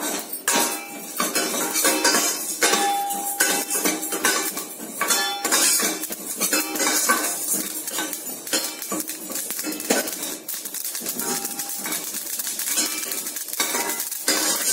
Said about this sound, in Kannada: ನೋಡಿ ಎಳ್ಳು ಚಿಟ ಚಿಟ ಅಂತ ಇದೆ